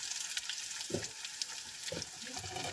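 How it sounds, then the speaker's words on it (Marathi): Chopped onion sautés in a pan with a soft continuous sizzle, broken by a few low scraping stirs of a spoon, close by and without talk. "कांदा आपला मस्त परतला आहे"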